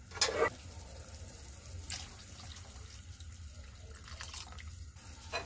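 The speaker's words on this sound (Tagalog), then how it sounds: "Add na tayo ng hot water." Hot water is poured into a cooking pot of beef pares broth, a soft splashing pour that comes in short bursts over a quiet kitchen background.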